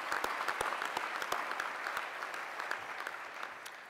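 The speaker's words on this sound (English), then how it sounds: "Let's give her a round of applause as well." An audience at a university commencement ceremony claps for an honored guest, with many distinct hand claps standing out from a soft, even wash of applause that slowly fades.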